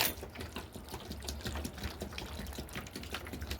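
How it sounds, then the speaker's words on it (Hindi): Water poured by hand onto chili seedlings under a roof makes a continuous soft splashing and trickling, close and steady, with no talking. "इसमें डाल देती हूँ मैं पानी"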